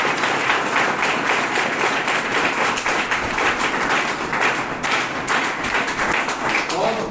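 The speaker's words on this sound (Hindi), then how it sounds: "एक बार जोरदार ताली चाहता हूं" Loud, sustained applause from a business-seminar audience, dense overlapping claps with steady intensity throughout and no pauses.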